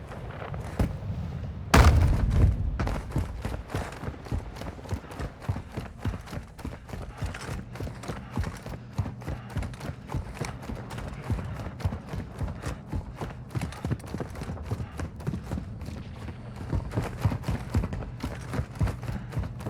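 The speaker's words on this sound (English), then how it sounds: "I slowed down right here so I could listen for footsteps" Footsteps in Call of Duty DMZ, a steady run of soft close thuds and taps over game ambience, with one heavy thump near the start.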